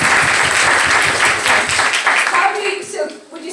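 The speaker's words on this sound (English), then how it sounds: "Let's give her a round of applause" Applause at a parenting discussion session, a dense burst of group clapping at close range that fades over the last second as a voice starts speaking.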